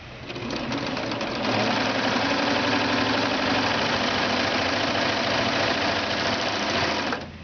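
A serger sewing machine stitches quilt fabric, running at a fast steady mechanical whir that starts and stops cleanly, close and loud with no talking.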